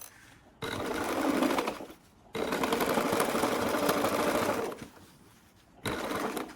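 A sewing machine stitches back-and-forth zigzags to repair jeans, running in three loud close bursts of rapid rhythmic needle clatter separated by short quiet pauses, with no talking.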